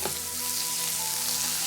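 Onions sizzling and caramelizing in a pan for a Michelin-star chef's onion soup give a close, steady hiss throughout, with a brief clink at the start and a faint low hum underneath.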